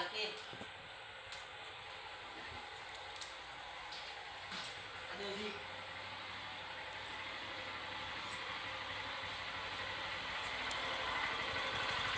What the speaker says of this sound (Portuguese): vou passar a máquina na perna dele